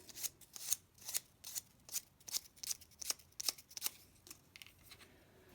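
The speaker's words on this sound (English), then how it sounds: "You want to sand the edge a little bit" Sandpaper rubbed by hand along the cut edge of a tube during a Loadstar II kit assembly, quick repeated rasping strokes in an uneven rhythm, close and fairly quiet, with no talk.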